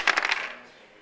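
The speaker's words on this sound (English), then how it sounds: "Roll both black dice together because it's" Dice tumble across a tabletop during a tabletop wargame, a quick burst of several sharp clicks in the first third of a second that fades into quiet.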